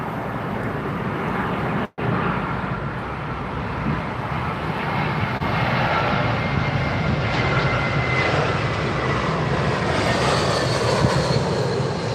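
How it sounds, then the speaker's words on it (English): A British Airways Airbus A320 arriving on approach to London Heathrow runway 27R, a steady, loud broadband jet engine roar that builds and swells as the aircraft passes close by, with no talk. "British Airways A320 from Basel. There it is."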